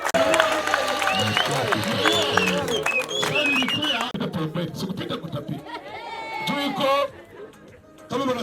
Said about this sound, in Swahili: Makofi tafadhali, makofi tafadhali.